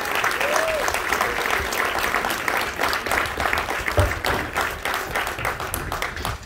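Crowd applause at a high school baseball game, steady continuous clapping from a large gathering with scattered cheers, sustained evenly throughout at moderate loudness.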